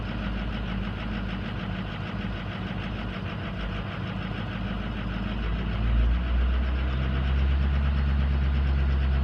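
A 2006 car engine idles steadily after a cold start, a loud close rumble with a low cylinder suspected weak; the idle speed rises and settles lower near the end.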